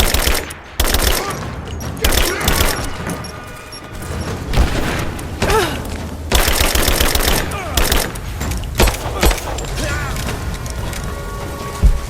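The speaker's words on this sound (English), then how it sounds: "I'm taking fire!" Gunfire in the action game Rise of the Tomb Raider comes as loud, close bursts and single shots over several seconds, mixed with metallic impacts and clatter, with shouted voices in between.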